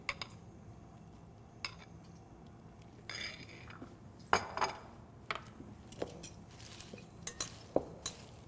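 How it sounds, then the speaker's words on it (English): Salad greens, including frisee, are tossed with dressing, producing soft rustling and scattered light clinks of utensils against a bowl, with no talk. "I'm going to take this dressing and I'm going to dress these greens"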